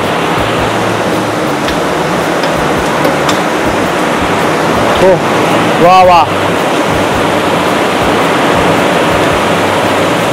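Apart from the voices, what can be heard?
heavy rain pouring down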